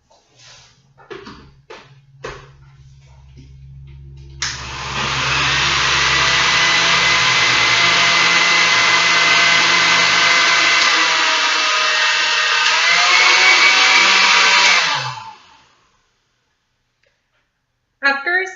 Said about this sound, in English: we are going to mix it in the blender real well.